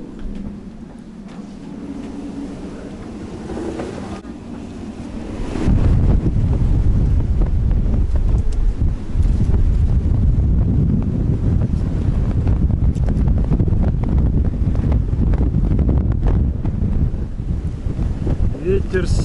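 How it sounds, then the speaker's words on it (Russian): Strong wind from Hurricane Nicole roars across a mic outdoors on a boat in a Florida bay, starting moderate and then jumping to a loud, steady buffeting rumble for the rest of the clip. "Ветер с севера"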